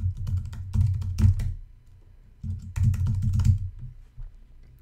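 Computer keyboard typing while entering a Gmail address, two bursts of quick, close key clicks separated by a short pause, no voices.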